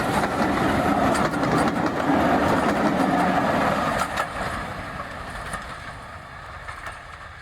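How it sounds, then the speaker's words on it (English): A heritage train on the M&GNJ railway line runs down the bank toward Weybourne, wheels clattering in a dense rolling rhythm that is loud at first and then eases somewhat, with no voices. "The train is dropping down the bank to Weybourne."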